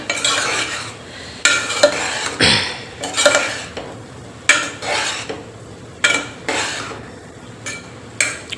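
A spoon stirs garam masala into a simmering North Karnataka-style curry in a metal pot, repeated scraping strokes with clinks against the pan, close and loud, over a faint sizzle.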